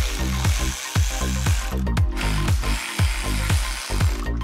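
Ratchet wrench clicking steadily as bolts are removed from a unit on a crashed McLaren 650S Spider, repeated rapid pawl clicks in short bursts, loud and close with no talk.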